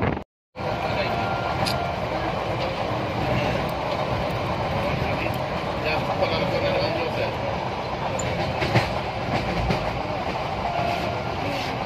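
A passenger train arrives at a station, a broad continuous rumble with rail clatter and scattered metallic squeaks, steady and fairly near, while a crowd murmurs around it.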